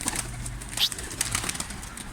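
A white pigeon flaps its wings in brief, fluttering bursts, close by, over a low background hum.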